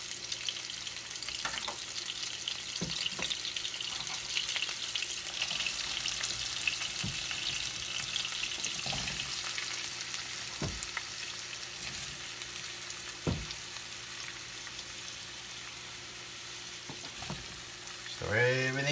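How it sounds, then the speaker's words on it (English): Minced garlic and vegetables fry for chili in a pan on a Char-Griller Akorn grill, giving a steady close sizzle broken by occasional scrapes and knocks of stirring. "we're going to add a little minced garlic to the pan"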